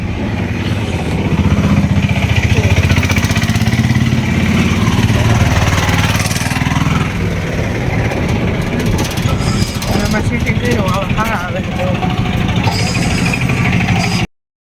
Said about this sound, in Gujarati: થોડીક વાર આ રિક્ષામાં બેસીએ ને તો મજા આવે